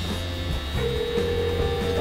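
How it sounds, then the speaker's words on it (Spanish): Telephone DTMF dialing tones sound from an alarm push-button phone system, with steady electronic tones and a tone change partway through, fairly loud and alone. "estamos viendo los tonos de marcación"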